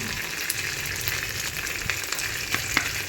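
Garlic paste sizzling steadily in hot oil for khichuri, a continuous bright frying hiss with occasional soft pops and clicks, close by and alone with no talking.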